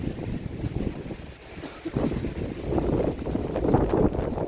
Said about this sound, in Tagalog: Lakas ang hangin dito guys